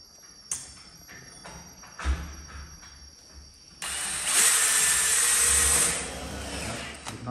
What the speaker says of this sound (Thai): ยึดน็อตนะครับ